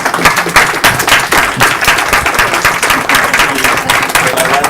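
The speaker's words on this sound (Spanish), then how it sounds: "Por pronto es un aplauso" Dense, steady audience applause fills a colloquium round-table session, with many hands clapping at once and sustained at an even level throughout.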